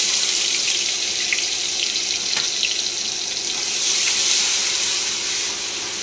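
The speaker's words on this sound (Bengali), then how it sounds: "পেঁয়াজ লাল করে ভেজে নিয়েছি" Sliced onion fries in hot oil with a bay leaf and panch phoron, giving a steady, loud, close sizzling hiss that stays fairly even throughout, with no talking.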